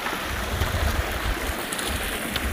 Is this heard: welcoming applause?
no